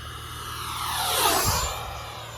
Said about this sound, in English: I'm going to come around, do one hot pass before we have to land